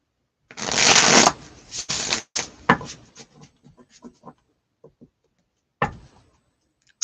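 Tarot cards are shuffled by hand, a loud riffling burst followed by a series of softer, irregular card taps and slides, then another brief riffle near the end, close and without talk.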